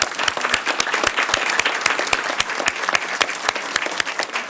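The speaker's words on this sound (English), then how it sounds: "Let's give them all a round of applause." An audience claps for students at a school board business meeting, with brisk, dense applause of many hands at a steady level, close and loud throughout, no voices over it.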